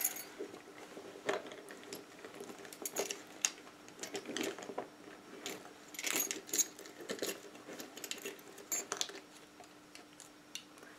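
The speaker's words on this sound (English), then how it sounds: "I have my keys" Keys jangling inside a Louis Vuitton Caissa clutch purse, a series of light metallic clinks and rattles in irregular bursts, close and fairly quiet, with no talking.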